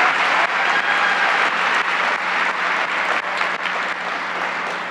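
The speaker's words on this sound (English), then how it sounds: "let's give her another round of applause." Sustained applause from a large commencement audience for the singer Casey Smith after the national anthem, a dense even wash of many hands clapping at once, loud and steady throughout.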